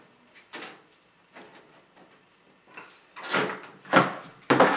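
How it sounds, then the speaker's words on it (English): Side panel of a Thermaltake Urban T21 PC case being handled and slid off after its thumb screws are removed, giving a few soft knocks and scrapes that build to louder clunks near the end. "the side panel you'll see comes right off using the standard thumb"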